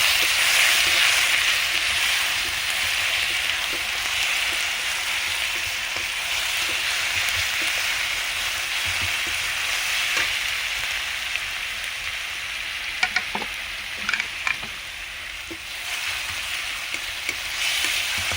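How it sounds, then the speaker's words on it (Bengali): Garlic paste sizzles steadily in hot oil with whole cumin, dried red chillies and bay leaves, a continuous close frying hiss with a few light clinks of a utensil toward the end, no voices. "রসুনটা ভাজা হয়ে এসেছে"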